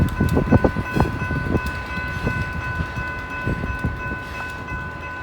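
A freight train with locomotives at the front and rear climbs a hill, its engines grinding and rumbling heavily while wheels knock and clank over the track, with steady tones droning above.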